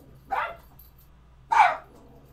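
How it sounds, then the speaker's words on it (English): A dog gives two short, fairly loud barks about a second apart, clear over a low steady background hum with no talking. "We had an increase in Stitch barking"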